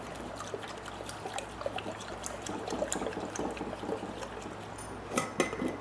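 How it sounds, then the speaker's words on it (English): Half and half trickles and pours into a bowl of whisked eggs, a steady soft liquid dribble with small clinks, close and fairly quiet. "Then you're going to add in some half and half."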